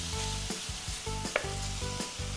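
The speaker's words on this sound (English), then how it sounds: "So I'm just gonna break up the beef, and we're just browning the beef." Ground beef browning in a pan for a 1948-style tamale pie, sizzling steadily while a utensil stirs and breaks it up in regular scraping strokes; close and continuous, with no voices.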